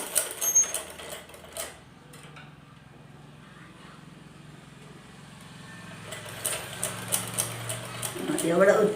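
A sewing machine stitches along a seam edge in a tailoring workshop, a steady mechanical whir running in the middle of the stretch with rapid clicking bursts before and after, while a person talks nearby.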